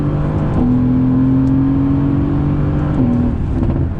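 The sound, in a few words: Mercedes-Benz AMG GT accelerating on throttle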